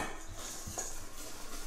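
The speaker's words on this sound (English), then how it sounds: "Now we're going to add our flour and baking powder and continue to whisk." A whisk clinking and scraping through flour and baking powder in a bowl, quick close metallic taps and rustling strokes, with no talking.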